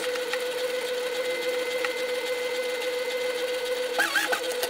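A sewing machine runs continuously, stitching a back tack at the end of a shoulder seam on a garment, a steady close mechanical hum with a brief change in rhythm near the end.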